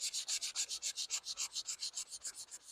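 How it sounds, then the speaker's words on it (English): Steady back-and-forth rasping of sandpaper on an old rusty metal tool, about seven strokes per second, close and even, with no voices. "Do a little sanding on it"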